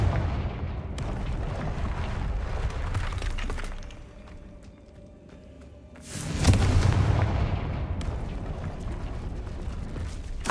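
Confringo fire spells bursting in the Hogwarts Legacy game, a run of loud booming explosions with a brief lull before another heavy blast and continuing rumble.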